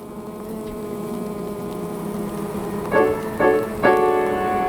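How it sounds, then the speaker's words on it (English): A low, continuous buzzing drone of bees moving into a new hive, with a few louder swells near the end as bees pass close. "Bees are moving into their new home."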